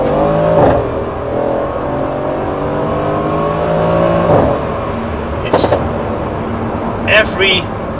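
A Mercedes C63 S AMG engine idles and blips, pitch rising and falling with throttle, then brief sharp pops near the end; a voice speaks over it.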